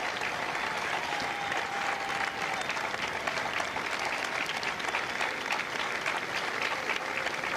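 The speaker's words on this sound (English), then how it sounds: "A round of applause for their dedicated service to corps and country." An audience at a Marine Corps recruit graduation in San Diego breaks into sustained, even applause, a dense wash of clapping hands from a large crowd that holds steady at moderate volume for several seconds.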